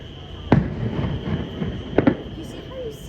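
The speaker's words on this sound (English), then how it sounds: "You see how you see the fireworks and then you hear the sound?" Distant fireworks set off near Epcot, heard from a hotel, thud as two separate muffled booms, one early and a second double burst a moment later, over a steady background hum and faint voices.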